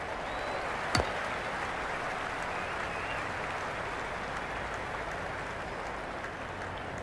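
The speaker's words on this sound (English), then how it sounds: "Will you listen to that crowd?" A large stadium crowd roars steadily through a Women's Big Bash League cricket video game match, Sydney Sixers versus Sydney Thunder, loud and continuous, with a sharp bat-like knock near the start.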